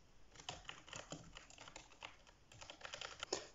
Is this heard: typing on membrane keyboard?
yes